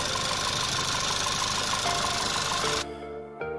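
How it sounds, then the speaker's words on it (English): Audi A3 S-line 1.8 TFSI petrol engine idling after a rebuild, a steady mechanical drone with light knocking, close and loud, then dropping off abruptly before a brief return. "I did manage to start the engine"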